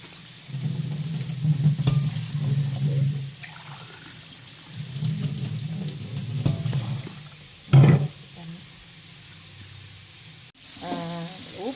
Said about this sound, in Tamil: மூணு கப்பு தண்ணி வைக்க போகிறேன்